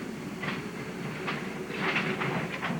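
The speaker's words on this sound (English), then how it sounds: "one of the last steam-powered mixed trains in the country starts its run on the Moscow, Camden, and San Augustine Railroad" Number 6, a Baldwin-built steam consolidation locomotive, starts a mixed train with a wood combine on the Moscow, Camden and San Augustine Railroad, a rumbling roll with rhythmic clanks and clatter rising slightly toward the end.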